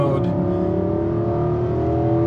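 A 2022 Nissan Armada accelerates hard from a standstill in four-wheel-drive auto mode, its engine note rising steadily and loudly under sustained throttle, heard from inside the vehicle.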